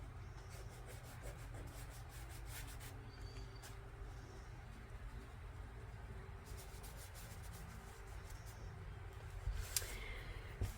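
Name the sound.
rubbing paint onto an art journal page with fingers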